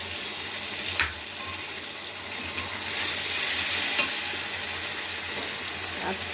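Mustard and poppy seed paste sizzles steadily in hot oil with tomato and garam masala, a continuous broadband frying hiss broken by a few soft scrapes of stirring, close and fairly loud with no talking.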